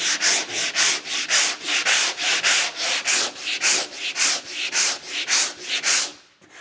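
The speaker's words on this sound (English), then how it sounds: "So when we're block sanding," Rhythmic back-and-forth block sanding strokes on primer over a VW T25 van body rasp steadily, about three per second, close and loud, then stop abruptly at the end.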